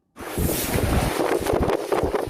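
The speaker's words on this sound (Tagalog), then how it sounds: "Halos sumayaw na rin ang maliit na punong ito dahil sa lakas ng hangin" Strong wind in Batanes, Philippines, roars and buffets the microphone nonstop, a loud, rough rushing gust with no voices.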